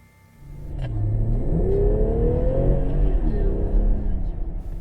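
Car speeding away through a narrow gap past roadblocks, its engine rising quickly from quiet into a loud, sustained accelerating roar with a climbing whine, near and continuous.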